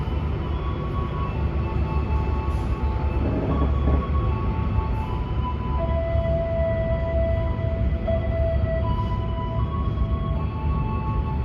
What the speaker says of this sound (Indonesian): kereta komuter lain Supas diberangkatkan kembali dari stasiun Pasuruan